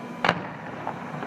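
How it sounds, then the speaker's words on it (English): A single firework bursts at a winter festival, a sharp distant bang with a fainter pop after it over outdoor crowd murmur. "The fireworks go all the way there."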